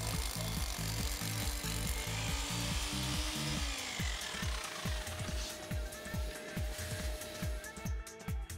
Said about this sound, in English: Drill vertically and take care of the depth.